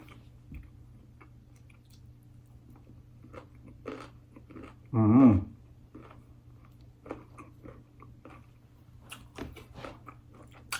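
Someone bites and chews crunchy air-fried food. One loud crunching bite stands out among quiet chewing clicks and mouth sounds over a low steady hum.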